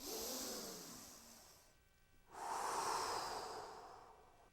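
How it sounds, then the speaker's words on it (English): A single deep breath drawn in slowly and then released in a long, audible exhale, close and quiet with a short pause between the two. "let's take a deep breath"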